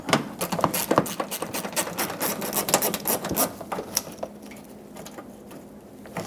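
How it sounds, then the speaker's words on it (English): A socket ratchet on a 2012-2018 Nissan Altima removes a 10mm fastener at the front bumper cover corner, heard as rapid close clicking in quick bursts that loosen and slow, then fade into quieter handling noise. "Right in here, you can see a 10mm fastener that we have to remove. So grab a socket and take this out."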